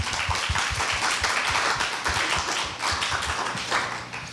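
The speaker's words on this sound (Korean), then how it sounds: "신지영 처장님과 여러분들을 위해서 박수 한번 쳐주시면 좋겠습니다" Audience applause at a Korea University speaking contest in Seoul, a steady wash of many hands clapping with some sharp individual claps standing out, loud and continuous throughout.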